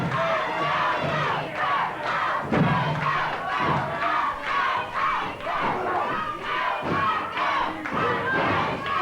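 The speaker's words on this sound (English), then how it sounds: "You can hear the crowd now picking up the chant." A wrestling arena crowd at a Georgia Championship Wrestling match chants loudly and steadily, a dense roar of many voices with rhythmic swells and a few dull thuds from the ring.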